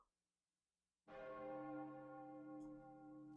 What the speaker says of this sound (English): suddenly you begin to hear the tolling, what sounds like a bell